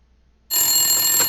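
A telephone rings loudly in a video game, the electronic ring bursting in abruptly after a moment of silence and holding steady and close to the end.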